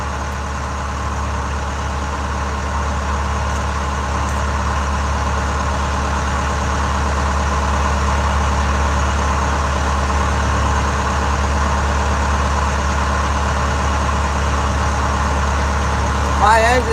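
A fishing boat's engine runs during coho salmon fishing, a loud, unbroken low drone that holds steady throughout.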